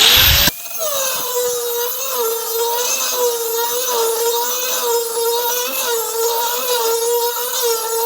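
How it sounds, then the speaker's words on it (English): A power blade, likely an angle grinder, cuts a straight groove into steel during a rusty 1966 VW Bug restoration: a steady high-pitched whine with harmonic tones, loud and continuous after a brief start, with no talking. "I like to get the groove cut straight as I can"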